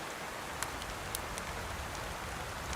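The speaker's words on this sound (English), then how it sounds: "It's actually raining, like inside the chimney." Steady rain in the video game DayZ, a dense even hiss of drops pattering on surfaces inside a chimney, with a few sharper drip ticks standing out, constant and fairly close, no voices.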